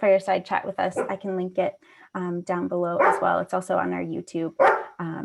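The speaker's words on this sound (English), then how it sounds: "He loves to either bark outside of the office, or if I let him in, he'll bark to want to go out." A dog barks in the background while a person keeps talking over it.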